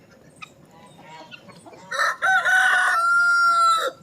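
Chickens in a backyard let out one loud, drawn-out call that rises and holds for about two seconds. Before it, a quiet outdoor background.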